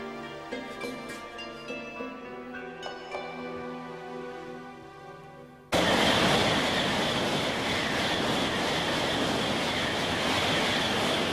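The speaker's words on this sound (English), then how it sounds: "setting off on a journey on one of Eric's beloved trains" A train rolls along the tracks as a steady, loud rumble with a high metallic hiss, following a stretch of softer tonal sound.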